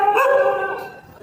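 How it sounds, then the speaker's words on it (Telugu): A nearby dog gives a long, loud, howling bark, then a second bark begins just as the first trails off, at a fishing area by the sea in Goa. "కుక్కలు అయితే చాలా అరుస్తున్నాయి"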